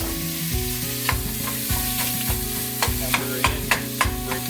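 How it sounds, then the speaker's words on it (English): Hamburger meat frying in a pan with oil over medium-high heat on a stove, a steady sizzle broken by repeated stirring and scraping strokes, close and fairly loud with no talk. "Let's get a little oil in the pan here, and fire as far as the stove wise, medium hot is fine. And we got our hamburger going."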